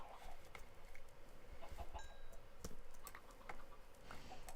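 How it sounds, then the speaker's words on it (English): Minecraft chickens cluck in short, scattered bursts over a steady game ambience, with a few sharp clicks and small tonal chirps dotted through; the calls are faint and fairly close, with no talking. "let's breed some more chickens"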